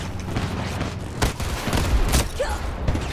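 Grenade explosions and rattling gunfire in Battlefield 2042, several heavy booms and bursts of shots close together in a busy battle.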